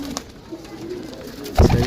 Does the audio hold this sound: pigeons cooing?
yes